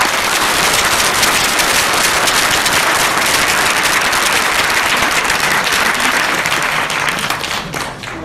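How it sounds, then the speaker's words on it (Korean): Loud, sustained applause from a large audience at an invited lecture at BEXCO in Busan, dense clapping continuing steadily for several seconds before easing slightly at the end. "격려의 박수 부탁드리겠습니다"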